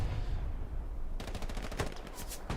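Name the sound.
tank shell or anti-tank gun fire in a video game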